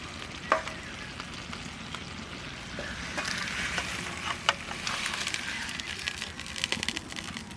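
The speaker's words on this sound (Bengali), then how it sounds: "খুব সুন্দর হয়েছে মাছ আজকে মাছ ভাজা" Koi fish frying in a pan, a steady close sizzle broken by occasional scraping and clinking as the pieces are turned and stirred.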